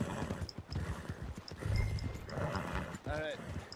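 Rhythmic clip-clop of horse hooves in Red Dead Redemption 2 under a talking voice, with a short whinny near the end.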